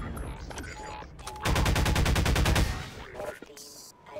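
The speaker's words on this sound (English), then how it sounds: "Now die to my combined soldiers. They will shoot you, Dr. Freeman." Combine soldiers open fire in the video game Half-Life 2, a loud burst of rapid automatic gunfire lasting about a second, with faint game sounds and a speaking voice around it.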